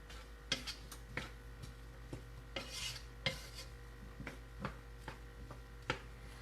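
Capsicum cooks in a pan and gets stirred, producing quiet scraping and ticking spatula strokes in an irregular rhythm over a low steady hum.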